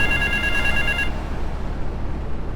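A telephone rings in the video game GTA 3, a bright electronic trill lasting about a second over loud, noisy game ambience that keeps going after the ring stops.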